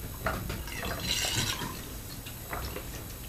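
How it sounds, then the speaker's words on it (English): Water drains from a domestic heating system through a newly fitted drain-off valve, a close, continuous splashing and gurgling flow with small surges, heard alone without speech. "it starts to drain water from the system"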